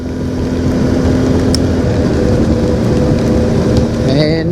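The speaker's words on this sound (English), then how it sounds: "You can see it is clearly raining" Rain falls steadily during a motorcycle ride on a CFMOTO 450MT, a dense wash of hiss over the low drone of engine and wind, continuous throughout with no talk.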